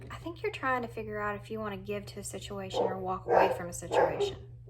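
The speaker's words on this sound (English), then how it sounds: "Sorry about my dogs." Dogs bark and yip in the background, rising louder toward the end, while someone talks continuously over them above a steady low hum.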